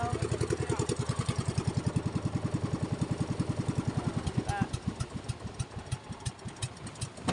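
A boat's motor is test-run after a single pull-start, giving a loud, close, steady chugging pulse that slows and turns uneven toward the end.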